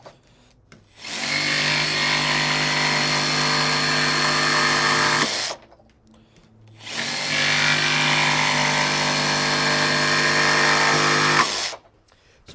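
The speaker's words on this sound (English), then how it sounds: "we're going to start with the 1/2" material, and we're going to see how this cuts through" A Makita DJV184Z cordless jigsaw cuts through half-inch material in two long, loud, steady bursts, each about five seconds, with a short pause between them and a brief stop at the end.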